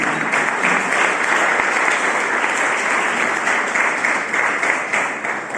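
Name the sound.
congregation applauding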